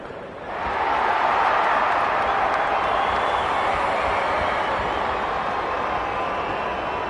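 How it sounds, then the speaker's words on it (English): Stadium crowd before a NAFL football match between the Demons and Saints in 2025, a broad sustained roar that swells in after half a second and holds steady and loud throughout. "The crowd already making plenty of noise as the captains come together."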